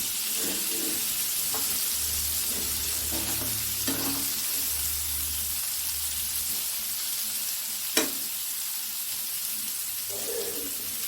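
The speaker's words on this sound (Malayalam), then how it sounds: "ഇനി നമുക്കൊന്ന് ഇളക്കണം" Elephant foot yam frying in a little oil as it is stirred, a steady close sizzle with scraping utensil strokes and one sharp knock near the end, no voices.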